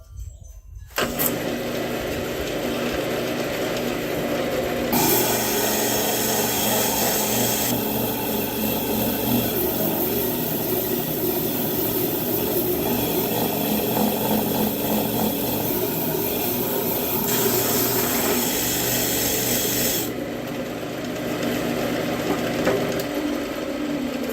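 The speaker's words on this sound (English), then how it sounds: "So right now, let's sand this top flat" A sander flattening the top of a segmented cherry wood vessel, giving a loud, continuous machine whine and rubbing hiss that shifts in pitch a couple of times.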